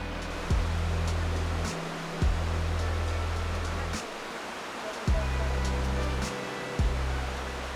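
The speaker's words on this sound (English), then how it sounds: "Brúarfoss was our next stop, often called Iceland's bluest waterfall." Brúarfoss waterfall on Iceland's Golden Circle gives a steady, close rush of falling water. Low hums repeatedly sweep down and cut out beneath it.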